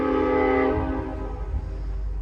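A train passes close by with its horn sounding loudly through the first second. The rumble of the cars then continues steadily under the fading horn.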